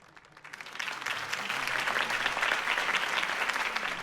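Crowd applause in the Batman: Realm of Shadows video game, loud and steady clapping from a large audience that swells in within the first half second and holds throughout.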